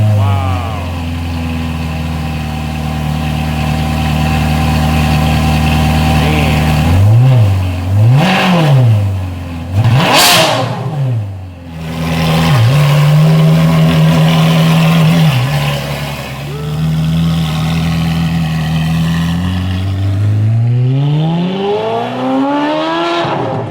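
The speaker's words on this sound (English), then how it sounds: "Let's get a little cold start." A Ferrari 430 Scuderia fitted with an Agency Power titanium exhaust cold-starts with a loud roar, then blips in several sharp revs before settling into a high, steady idle that dips and climbs again, close and dominant, with a voice speaking at moments.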